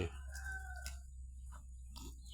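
Chickens at a temple in rural Lampang give a few short clucks and calls close by over a steady low background hum.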